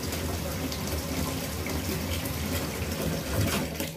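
Very hot water runs steadily from a tap into a container, a continuous soft splashing gush with faint background noise.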